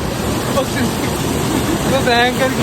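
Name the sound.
waterfall at Lake Mist, Mussoorie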